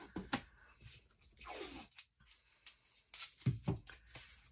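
Adhesive tape for a building wall assembly is pulled off the roll with rasping tearing strips, then pressed down in short rubbing scuffs, close up and fairly quiet.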